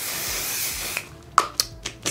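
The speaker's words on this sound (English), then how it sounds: "we're gonna use the One Size Beauty Until Dawn spray" A mattifying setting spray, One Size Beauty Until Dawn, mists in one long steady hiss that cuts off, followed by a few faint taps and small clicks of handling.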